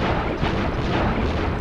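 A shooting vehicle in the PlayStation game Crash Bandicoot 3: Warped fires repeated booming blasts in a quick run, loud and close, with music or game noise underneath and no speech.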